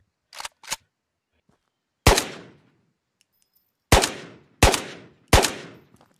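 Gunfire in the VR shooter Ghosts of Tabor, a fast pair of shots followed by single loud reports with echoing tails, spaced apart in the open with no talk.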